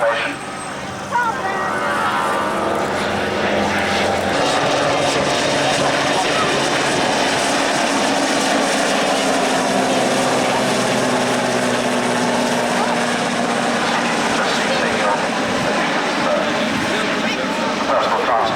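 Several helicopters make a slow formation flyby at an airshow, a loud, steady rotor and engine roar that fills the air and holds throughout with a low drone, while an announcer talks over it.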